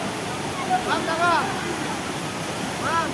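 A waterfall in Gangtok gives a steady, loud rushing roar throughout, with voices and brief whistling tones heard faintly over the water.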